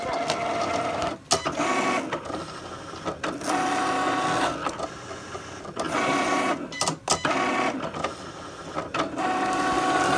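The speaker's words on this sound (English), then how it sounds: "So here we're using the fine point blade to cut the balsa wood." Cricut cutting machine fitted with a fine point blade cuts a sheet of balsa wood, giving a steady mechanical whir and clatter of the moving carriage that runs almost continuously, with a few brief pauses.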